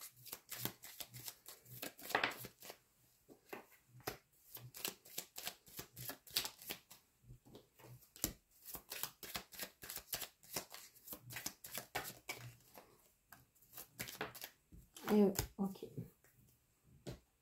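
Lenormand cards are shuffled and squared up by hand in a quiet room, with rapid papery riffles and taps coming in bursts and short pauses, close and soft, while someone talks throughout.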